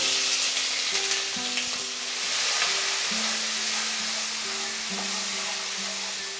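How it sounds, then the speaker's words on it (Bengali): A chili, cumin and ginger paste fries with a splash of water in a pan for a Bengali vegetarian pumpkin ghonto, giving a steady close sizzle with a few soft stirring scrapes throughout. "তারপরে 1 টেবিল স্পুন জল দিয়ে মশলাটাকে আমরা কষিয়ে নেব"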